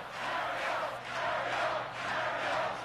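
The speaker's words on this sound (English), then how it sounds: "the chanting began" A crowd at a 1986 New York State Democratic convention rally chants in a large hall, a steady, loud mass of voices rising and falling in rhythmic waves.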